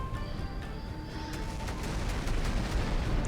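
Battleship guns fire at the Repulse in Battlestations Midway, a steady, loud wash of rumbling naval gunfire and booms with no clear gaps.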